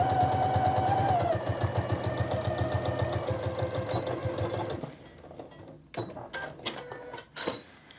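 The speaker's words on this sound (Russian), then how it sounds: "Пристрачиваю я по краю где-то на расстоянии 2 миллиметров." A sewing machine stitches along the edge of leather wallet pieces, giving a loud rapid mechanical chatter for about five seconds, then several shorter stop-start bursts.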